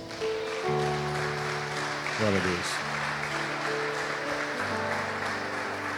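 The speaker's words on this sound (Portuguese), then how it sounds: "Tem uma salva de palmas para o Senhor" A church congregation claps for the Lord during an evangelical service, the applause running under sustained keyboard chords while a voice exclaims praise over it.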